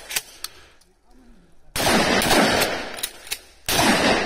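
Gunshots at an outdoor shooting range: a few sharp cracks early, then two loud sustained bursts of fire separated by a brief pause, with faint voices between.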